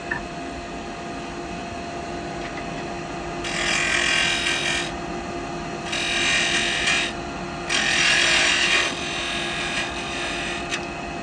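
A wood lathe hums steadily while a cutting tool bites into spinning wood in three rough, scraping bursts, turning a tenon, close and fairly loud.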